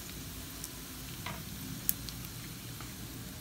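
Onions added to garlic frying in a pan for chicken noodle soup with vegetables give a faint, steady sizzle with a few soft clicks of stirring, heard alone.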